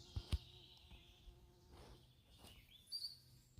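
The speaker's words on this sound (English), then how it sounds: "Bees are happy." Bees buzzing among flowers in a backyard garden, a faint hovering drone that rises and fades as insects pass close, with a couple of soft knocks at the start.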